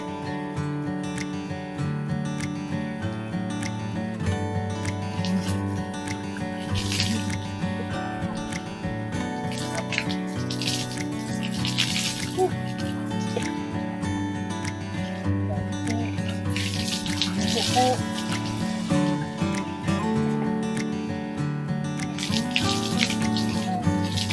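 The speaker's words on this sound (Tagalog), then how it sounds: "napaka-press ko ng tubig dito sa balon" Steady splashing and gushing of water pumped from a well in continuous surges, close by, with faint clanking underneath and no talking.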